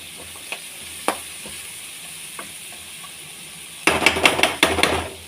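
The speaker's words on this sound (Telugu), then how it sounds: "ఆయిల్ పోసుకున్నాను, తర్వాత రొయ్యలు వేసుకున్నాను. ఫ్రై అవ్వనివ్వండి." Prawns sizzle in hot oil, quiet at first with a few clinks, then a loud crackling burst of spattering frying.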